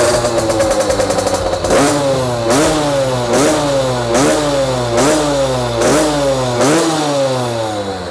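Mini Trail MT6 50cc motorcycle engine is blipped repeatedly: about six sharp revs rise and fall over a rattly, buzzing idle, loud and close, with no voices.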